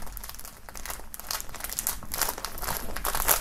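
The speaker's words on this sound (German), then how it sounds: "nachdem das Shirt noch in Folie ist, machen wir das mal aus der Folie." Plastic film crinkles and rustles continuously as a packaged shirt from a Haftbefehl Blockplatin box is pulled free of its foil wrapping, a close, steady crumpling texture with no talking.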